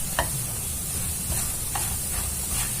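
A spoon stirring bread candy mixture in a hot pan, giving a steady close sizzling hiss with a few soft scrapes and taps.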